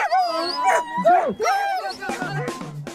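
An eager dog howls, yips and whines in rising, wavering cries seconds before the start of a canicross race, close and loud, with a few short barks near the end.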